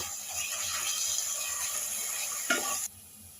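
Paste of ginger, garlic and green chili sizzling steadily with onions in a pan, a continuous hissing fry with a brief stirring scrape near the end before it cuts off.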